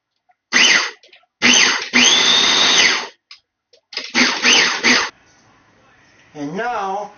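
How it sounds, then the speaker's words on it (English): Food processor pureeing roasted pumpkin pieces with heavy cream, running in several loud whirring bursts separated by short pauses, with a voice speaking briefly near the end. "And now I'm going to puree the pumpkin with the heavy cream."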